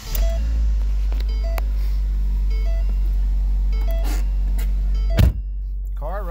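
A 2010 Ford Focus engine idles with a steady, loud low rumble, accompanied by a few short electronic chimes and a single thunk near the end.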